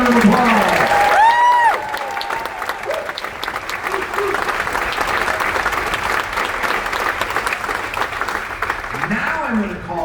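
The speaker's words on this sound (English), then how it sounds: "Let's give them all a big round of applause." A steady round of applause rises from an audience at a veterans' tribute aboard the cruise ship Voyager of the Seas, sustained and moderately loud for several seconds, with a whoop and some voices woven through the clapping.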